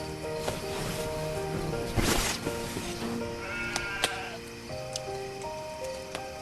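Several sheep bleat from a flock, overlapping calls near and farther off, with one loud close bleat standing out among the quavering cries.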